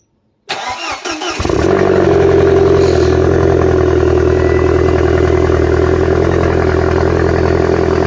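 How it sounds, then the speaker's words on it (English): An Audi car engine cold-starts with no exhaust fitted: a brief cranking whir, then a loud, raw, steady idle that holds close and unbroken. "So there's a little cold start for"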